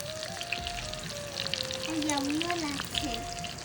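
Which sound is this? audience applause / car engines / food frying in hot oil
food frying in hot oil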